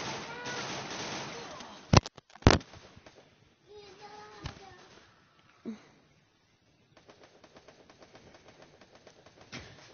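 Gunfire in a video game, with two sharp close shots early on, a few scattered pops, then a faint rapid string of shots toward the end, mixed with game sounds at modest volume.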